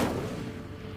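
Incendio fire spell cast in Hogwarts Legacy: a single close whooshing burst of flame that starts loud and fades quickly over about a second.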